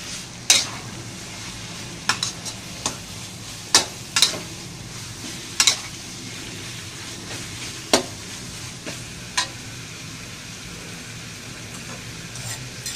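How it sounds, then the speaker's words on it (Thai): Nam prik ong, a northern Thai chili paste, stir-fried in a pan: a soft continuous sizzle broken by a series of distinct spatula clacks and scrapes against the pan, nearby, with no voices. "ทีนี้ก็ถึงขั้นตอนการผัดแล้วนะครับ"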